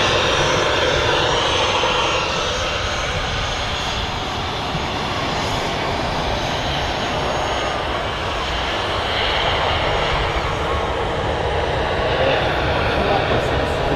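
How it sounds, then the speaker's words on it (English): A Ryanair airliner comes in to land at Manchester Airport, its engines a steady broad roar that holds loud and constant throughout, with a few voices talking faintly underneath. "There's a Ryanair coming in."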